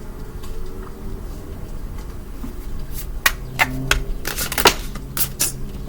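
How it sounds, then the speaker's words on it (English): Tarot cards being shuffled close by, soft rustling that builds into crisp, irregular riffling snaps in the second half. "Wow, I barely even shuffled."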